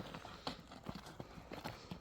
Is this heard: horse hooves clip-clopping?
yes